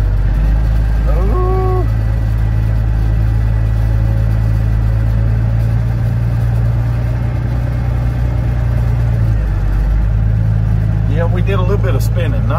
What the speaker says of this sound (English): Let's see if I can make it through this mud hole here.